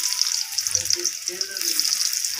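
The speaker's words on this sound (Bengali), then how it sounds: "রসুনগুলো আমার ভালোভাবে ভাজা হয়ে গেছে" Chopped garlic frying in hot oil in a pan, a steady close sizzle with light crackling throughout, alone without talk.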